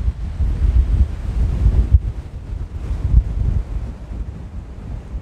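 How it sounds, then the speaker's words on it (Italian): Outdoor wind buffeting a RODE VideoMicro fitted with its furry windscreen, leaving a low, muffled rumble that swells and fades in gusts, fairly soft and steady with no voices. "Il rumore del vento viene annullato quasi del tutto."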